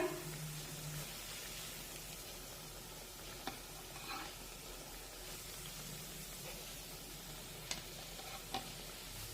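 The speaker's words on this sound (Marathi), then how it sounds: "या ज्या राहिलेल्या वड्या आहेत त्या सुद्धा तेलामध्ये फ्राय करून घेते" Methi vadi, fenugreek-leaf fritters, fry in hot oil with a steady soft sizzle and crackle. Occasional small pops and clinks of stirring sound over the low, continuous hiss.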